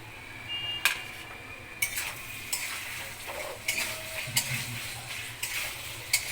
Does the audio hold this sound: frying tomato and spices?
yes